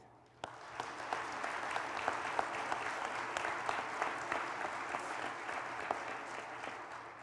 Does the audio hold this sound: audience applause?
yes